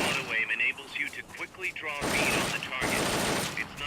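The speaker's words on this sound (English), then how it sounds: "The M16 disparar? is a standard assault rifle, capable of rapid fire" Rapid bursts of M16 assault rifle fire in Metal Gear Solid: Peace Walker, loud and dense in the second half, with game sound and speech-like tones before the shooting starts.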